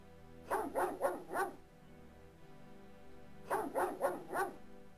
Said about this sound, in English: You bark there, dog, and do absolutely nothing.